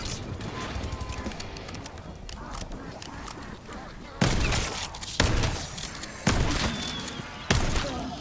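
Warning shots ring out in Black Ops 6 Zombies on the Terminus map: four loud, sharp gunshot bursts spaced about a second apart, cutting through a steady, busy game background.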